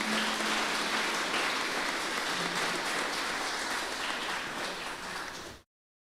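A church congregation at a Baptist service in Jundiaí applauds in a dense, steady wash of clapping. It holds at an even level for about five and a half seconds, then cuts off abruptly.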